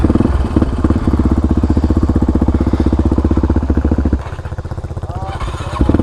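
A motorcycle engine thrums close and loud during a ride, a steady pulsing chug that drops in pitch and eases briefly before picking up again.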